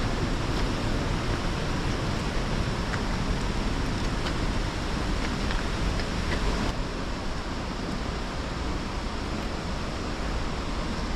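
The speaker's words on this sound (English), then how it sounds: "You can hear the water down to my left. It's sort of squeezed through a gully," Loud, steady rush of water squeezed through a narrow gully below a walking path toward Steall Waterfall in Glen Nevis, Scotland, a continuous broadband roar filling the whole stretch with no break.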